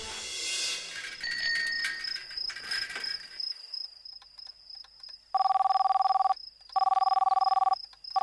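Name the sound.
telephone ringing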